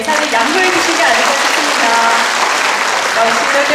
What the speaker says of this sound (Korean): 역시 이렇게 박수가 자연스럽게 나오네요.